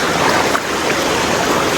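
Continuous rushing river water where people are bathing, a dense steady wash of flowing current close to the microphone, no voices.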